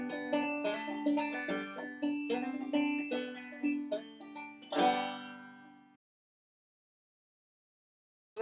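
A banjolin strums and picks chords in a steady, bright, plucked rhythm, close and clear, ending on a ringing final chord that cuts to silence.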